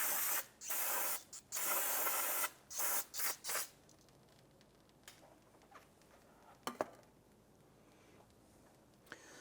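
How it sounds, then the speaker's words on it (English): Solvent is sprayed from an aerosol can onto the front wheel hub around the speed sensor of a 2015-2020 Cadillac Escalade, several loud close hissing bursts in quick succession, then faint ticks and drips. "I'm going to go ahead and spray it down with some solvent."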